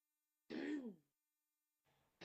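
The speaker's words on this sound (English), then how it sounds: "She's coughing more." A single close throat-clearing cough, then a quieter second one after a pause.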